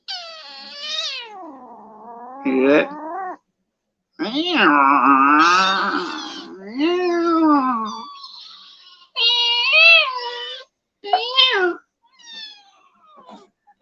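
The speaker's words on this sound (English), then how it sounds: "this is the cat right here" A feisty pet cat meows and growls in repeated drawn-out cries, close and loud, with a person speaking briefly between the cat's calls.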